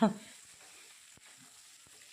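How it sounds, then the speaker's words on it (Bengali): Pointed gourd (potol) frying in a pan gives a faint, steady sizzle close by, with a soft knock at the start and a couple of light clicks from stirring. "এদিকে পটল ভাজা হচ্ছে কুমড়ো ভাজা নামিয়ে পটলগুলো বসিয়ে দিয়েছি"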